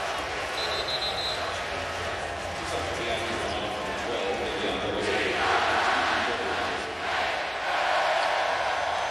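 Kentucky fans in a packed basketball arena roar a rhythmic chant during the game, loud and continuous. A commentator talks over it and it swells toward the end.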